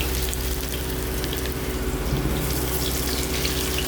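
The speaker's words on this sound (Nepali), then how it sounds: "प्याज एकछिन भुट्नु पर्छ है" Onions frying in a pan of hot oil for fish curry, a dense, continuous close sizzle that stays loud and even throughout, with no talking.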